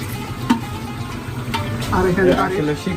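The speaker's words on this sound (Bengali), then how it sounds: "দেখতে কষানো হইতেছে ভালো মতো" Meat sautéing with biryani spices in a pan, soft sizzling and stirring scrapes that grow louder toward the end, with people talking over the cooking.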